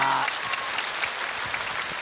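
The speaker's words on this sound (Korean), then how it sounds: "두 분에게 박수 주시기 바랍니다" Moderately faint, steady applause rises from the audience at an outdoor televised singing contest in Damyang, South Jeolla, with soft individual claps blending into an even patter.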